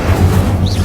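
A fire spell cast in Hogwarts Legacy, a Harry Potter video game, comes as a short, loud burst with a low rumble and a bright crackling swish over steady game background.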